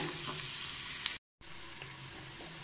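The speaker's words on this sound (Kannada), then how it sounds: "ಈ ಹುರಿಯೋಣ" Ingredients sizzle and fry in a pan while mint rice bath is being made, a steady crackling hiss broken by a brief silent gap midway.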